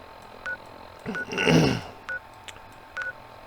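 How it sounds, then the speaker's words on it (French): Teleport effect in the video game Fallout 4: periodic short electronic beeps around a swelling whoosh-like burst of energy in the middle, moderately loud with no speech. "nous téléporter gentiment"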